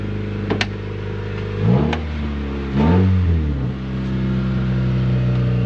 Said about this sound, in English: It's actually idling pretty good for having everything for the transmission unplugged.